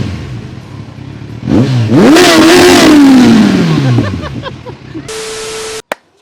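Big bike motorcycle engine idling, then blipped into a loud, near rev that rises and slowly falls back, with mechanical clatter around it and a steady tone entering near the end.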